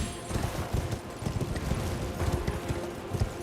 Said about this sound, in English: This time with a horse under us.